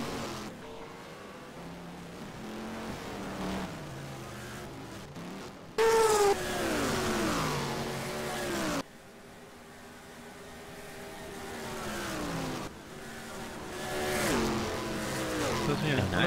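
Can-Am race cars, including Porsches, in the 1971 Can-Am Challenge Cup at Donnybrooke, their engines rising and falling in pitch as they rev and sweep past under steady commentary, with a louder pass midway.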